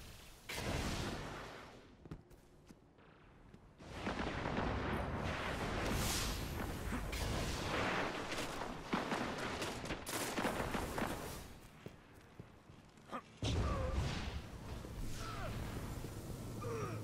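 Rapid gunfire and explosive weapon blasts in the Mayhem Rumble mode of a shooter video game, including a bolt caster, loud and nearly continuous with brief lulls and a heavy burst near the end.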